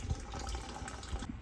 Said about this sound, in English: I shut the water right off and it's still flowing pretty good, so we're gonna let it drain down